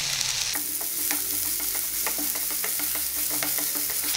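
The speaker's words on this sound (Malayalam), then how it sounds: "ചൂടായ വെളിച്ചെണ്ണയിലേക്ക് വെണ്ടയ്ക്ക ഇടുകയാണ് നല്ലപോലെ മൂപ്പിച്ച് പോരാം" Okra frying in hot coconut oil, a steady loud sizzle with repeated scraping stir strokes in a pan, close up and continuous with no talking.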